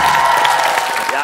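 A studio audience on a Korean TV variety show breaks into a brief, dense round of clapping for baseball player Ryu Hyun-jin, loud and close, with no talk over it.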